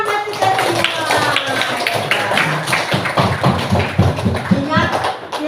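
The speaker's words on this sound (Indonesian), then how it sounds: "tepuk tangan buat kita semua" Elementary school classroom of children clapping together, loud and close with irregular taps and shuffling, with voices and chatter running through it.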